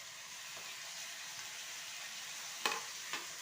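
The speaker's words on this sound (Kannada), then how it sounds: "ಈಗ ಸ್ವಲ್ಪ ಟೊಮೆಟೊ ಫ್ರೈ ಆಗಲಿ" Tomatoes frying softly in a pan for oggarane rice make a faint, steady sizzling hiss, broken by a couple of small clicks from stirring near the end.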